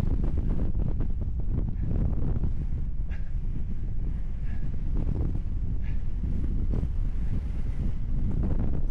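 Steady low rumbling wind buffeting the microphone throughout, on a mountain pass in the Pyrenees at night, with faint brief tones now and then, fairly loud and constant.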